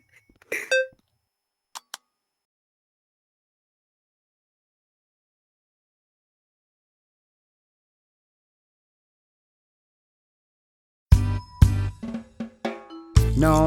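A kitchen-style timer gives a quick cluster of electronic beeps followed by a second short pair, then a long silence before loud, dense sound bursts in near the end.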